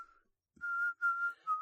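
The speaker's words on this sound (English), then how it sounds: "he demonstrates his newly mastered technique of inward whistling" A man whistles inward, drawing breath to make a thin, steady, reedy tone in three sustained notes separated by brief breaks, heard alone and close.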